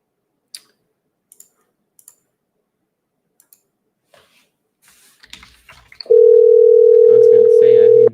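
A steady electronic telephone line tone hums for about two seconds at the end while a radio call-in show connects a caller. It follows scattered clicks and faint handling noises.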